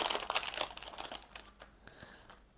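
Packaging on new accessories is torn open, a short burst of crinkling and tearing plastic and paper, close and fairly loud, then fading into quieter rustles.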